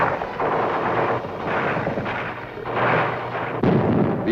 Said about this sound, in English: Gunfire roared in the streets and panic spread throughout the population.